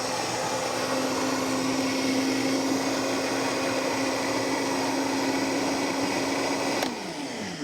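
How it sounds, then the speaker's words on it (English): A kitchen blender whirs loudly and steadily while blending soup ingredients, a constant close motor roar that cuts off abruptly near the end. "now we've got our ingredients inside our blender. We're gonna put our top on there and fire it up."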